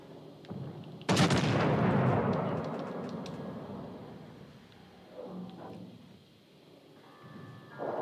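Naval guns firing in World of Warships: Legends, one loud boom that decays slowly over several seconds, preceded by a lighter shot and followed by quieter game effects and a faint tone.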